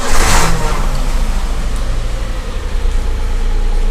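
A 2007 Daihatsu Xenia Li car engine cranks and starts, a short burst at the outset settling into a loud, close, steady idle rumble with low-end throb.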